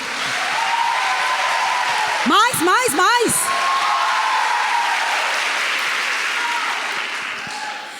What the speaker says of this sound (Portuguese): Uma salva de palmas para as mães, por favor.